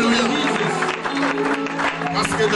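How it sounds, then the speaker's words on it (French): A church congregation claps and cheers during a worship service, loud crowd applause blended with a voice speaking over it the whole time. "Est-ce qu'on peut applaudir très fort?"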